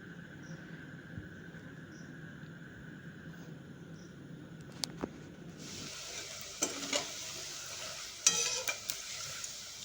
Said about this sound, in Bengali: এবার আমি ভেজে নিচ্ছি পকোড়াগুলো।